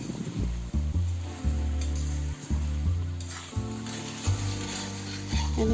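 Chicken pieces sizzle and crackle in a hot pan for dahi chicken, a steady close frying hiss broken by repeated scraping stirs, with no talk over it.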